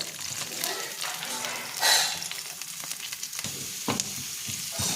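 Shallots fry in hot oil until golden brown for a jackfruit molocheeyam, a steady close sizzle and crackle with occasional stirring scrapes running throughout.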